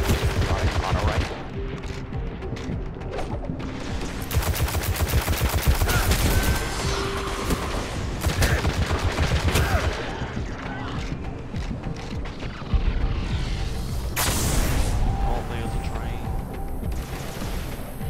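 Rifle gunfire in the video game Destiny rattles on almost without pause, loud rapid shots mixed with crashing impacts and a voice talking over the din.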